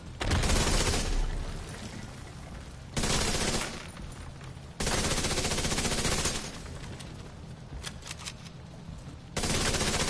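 Sustained automatic gunfire and bursts of shooting in the cover-based shooter Division 2, loud and dense bursts with brief lulls, no talking.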